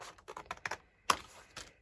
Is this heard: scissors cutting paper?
yes